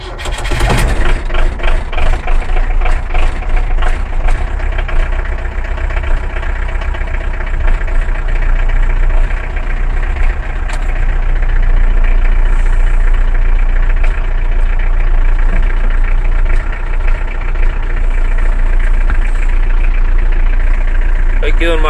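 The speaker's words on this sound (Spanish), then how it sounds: "Vamos a poner en marcha, lo vamos a dejar calentar" A Rastrojero light truck engine runs and idles steadily on a frosty morning, a loud, continuous low rumble close by, with a brief start-up flutter at the beginning.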